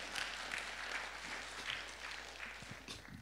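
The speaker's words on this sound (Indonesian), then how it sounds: "Beri tepuk tangan dulu bagi Allahmu." Applause from a church congregation at a worship service in the Netherlands, a steady, moderately quiet wash of many hands clapping that continues throughout with a faint murmur.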